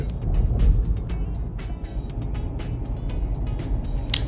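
Car on a hot highway between Harare and Blantyre, a steady low engine and road drone running throughout, with rhythmic tyre thumps repeating over joints in the surface.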